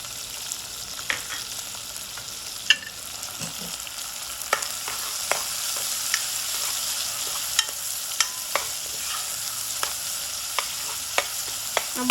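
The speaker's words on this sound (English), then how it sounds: "we're going to cook the onions until they're translucent" Salted onions cooking in a pan for saffron pilaf rice give off a continuous close sizzle, punctuated by light scrapes and taps of stirring at irregular intervals.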